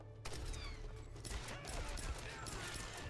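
Rapid gunfire from a weapon in the action game Tomb Raider, a dense continuous burst of shots running the full length with no pauses.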